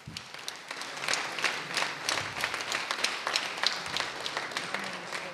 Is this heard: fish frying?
no